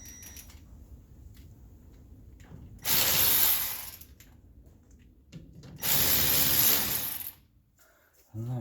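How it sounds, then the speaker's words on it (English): A power tool whirs in two loud bursts of about a second each while nuts come off a Mustang's front drum brake assembly. Quieter mechanical clicking and handling noises fill the gaps between them. "just take off these last two nuts that are holding that on"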